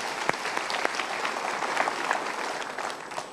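Applause from a studio audience, a full crowd clapping continuously and evenly, with a few louder individual claps standing out near the start.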